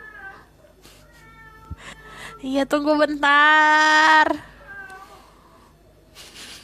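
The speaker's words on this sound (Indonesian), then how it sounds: "kucing aku lagi ngomel-ngomel." A pet cat meows insistently indoors, a few short calls followed by one long, loud drawn-out yowl, close to the microphone, with someone speaking briefly around it.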